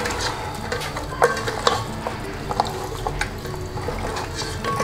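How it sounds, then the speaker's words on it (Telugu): Fish pieces mixed by hand with turmeric, a continuous wet, squelchy rubbing with occasional small clicks of pieces against the bowl, close and moderately loud. "ఇట్లా ముక్కలకి అంతా పట్టేలాగా, పసుపు అంతా పట్టేలాగా మనం ముక్కల్ని చేతులతో ఇట్లా ఇది చేయాలి"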